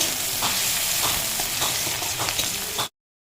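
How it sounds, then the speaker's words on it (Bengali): Onions sizzling steadily in hot oil as they are stirred until browned, with light spatula scrapes, close and loud before stopping abruptly. "পেঁয়াজটা ভালো করে লাল লাল করে ভেজে নেব"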